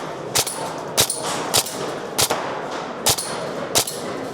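An airsoft replica fires in semi-auto at the IWA 2025 trade show, giving six sharp, loud single shots spaced roughly half a second apart, each followed by a short metallic clack.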